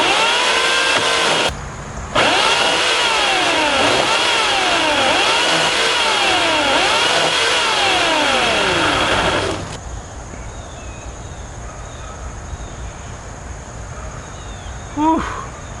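A homemade kindling processor driven by a chainsaw engine cuts wood. The engine revs loud and close with a rising and falling whine for about eight seconds, then cuts out to a quieter idle and ambient background.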